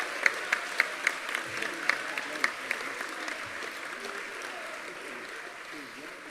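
A graduation ceremony audience claps steadily for an absent graduate, with a few sharp loud claps early on settling into a continuous wash of applause; talk runs underneath.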